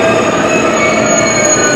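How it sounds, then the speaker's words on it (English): Hitachi Express train pulling into a Japanese station, a loud continuous rumble with high, sustained wheel squeal over it, close by and without voices. "here comes the train"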